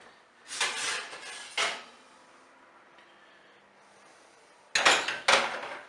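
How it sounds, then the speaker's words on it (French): A baking dish of duck aiguillettes roasting in honey is pulled from an oven at 210 degrees, giving clattering metal-on-metal knocks and scrapes in two bursts separated by a quiet pause. "je vais sortir le plat du four"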